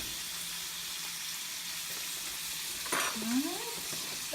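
Scallops sear in a hot pan with a low, constant sizzle, and a sharp scrape and louder spatter come as one is flipped near the end, with someone talking faintly.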